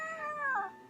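A friendly pet cat named Gordon gives one drawn-out, wavering meow up close, ending in a brief sharp noise.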